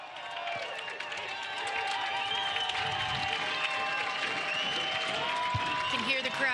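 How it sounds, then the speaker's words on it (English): A stadium crowd at a USL soccer match between Real Monarchs SLC and Sacramento Republic FC cheers and applauds in a broad, sustained roar, heard under close, continuous commentary. "You can hear the crowd cheering"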